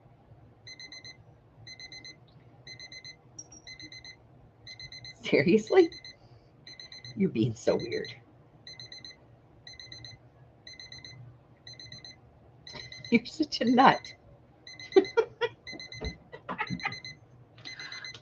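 An electronic alarm clock beeps in repeated short bursts of rapid tones, steady and fairly close, while a person talks over it in a home at night.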